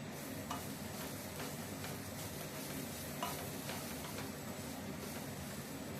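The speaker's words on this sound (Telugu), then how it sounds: "ఇది కూడా మొత్తం వేసేస్తున్నాం వేసి కొంచెం వేయించుకోవాలి" Carrot and coconut curry fries in a pan, giving a faint, continuous sizzle broken by soft scrapes of stirring, with no one talking.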